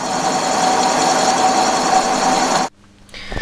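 A lathe boring out a machine part during a shaft and housing repair: a steady, even mechanical whir with a faint thin tonal whine that cuts off sharply near the end, leaving near-silence before a quiet rise.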